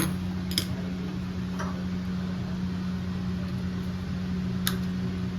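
A few sharp clicks from a gas stove igniter as the stove is switched on in a home kitchen, scattered single ticks over a steady low hum, near and quiet, with no talking.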